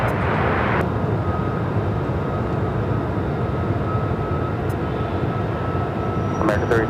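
A Southwest Airlines Boeing 737 MAX 8 roars steadily on its takeoff run, a broad continuous rumble that holds loud and unbroken throughout, with a faint radio voice briefly cutting in near the end.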